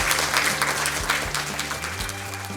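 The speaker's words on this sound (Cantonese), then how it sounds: "俾啲掌聲 Alan" Audience applause at an insurance company's awards ceremony, a dense, steady burst of many hands clapping in a large hall, close and loud throughout.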